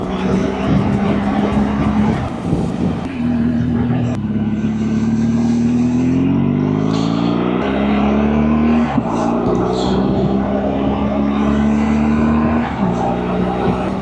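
A motorcycle rides along a cold Istanbul road at about one degree, its engine droning steadily close by with pitch rising and falling through gear changes, while a rider talks over it at times.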